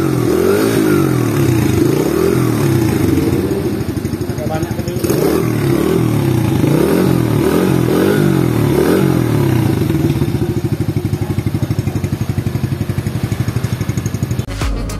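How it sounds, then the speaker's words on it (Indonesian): A nearby Viar Razor 100SP ATV engine, just out in the rain, runs with a throaty, pulsing putter that rises and falls in a few revs before settling into a steady idle. "Nih kita kasih dengar suara dari ATV Razor."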